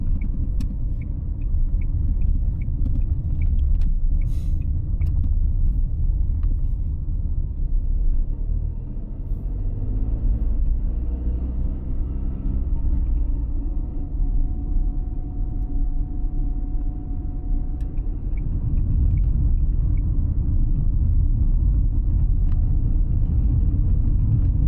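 Steady low road rumble fills the cabin of a car driving along a rural road, a continuous engine and tyre drone with no talk.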